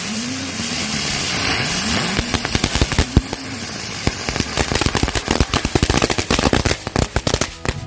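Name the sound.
lotus flower spinning firecracker going off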